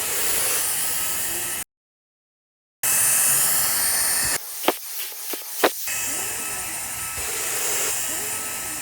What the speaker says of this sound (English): Well, I almost got everything vacuumed up.